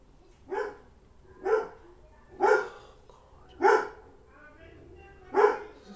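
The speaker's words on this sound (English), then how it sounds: "my dog always barks" A pet dog barks five times in a slow, evenly spaced series, each bark loud and close in a quiet home room, with no talking between them.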